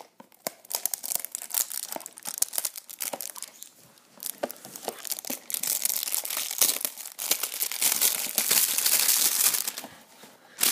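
Plastic wrapping is torn and crinkled off a DC Comics vinyl figure blind box in close, irregular bursts of crackling and ripping, busiest and densest in the latter half.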